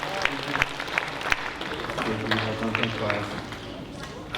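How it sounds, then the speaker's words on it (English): An audience gives a round of applause after a success panel, with continuous clapping running under a presenter's voice. "Give a round of applause, yeah"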